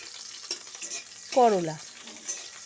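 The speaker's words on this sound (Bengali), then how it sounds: "করলাগুলোকে ভেজে নিচ্ছি" Bitter gourd (karela) pieces fry in oil for shukto, a soft close sizzle marked by spatula stirring scrapes and a brief squeaky scrape midway.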